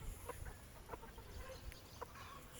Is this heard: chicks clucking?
yes